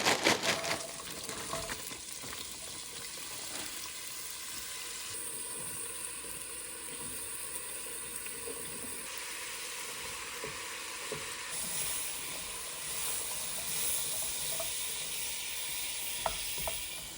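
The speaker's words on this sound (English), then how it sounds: "So now we can brown the carrots and the leeks in the same pot." Carrots and leeks browning in a pot, a steady close sizzle with occasional stirring scrapes and clinks, continuous and unaccompanied by talk.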